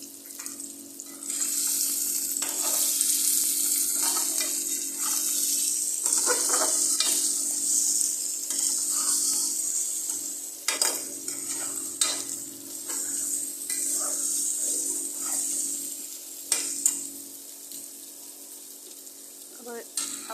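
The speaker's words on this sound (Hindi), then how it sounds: "अब इसे हल्का सा भूनेंगे।" Potatoes with crushed chilli, chaat masala and salt fry lightly in a pan with a bright, steady sizzle, and a spoon stirs and scrapes at intervals for about twenty seconds.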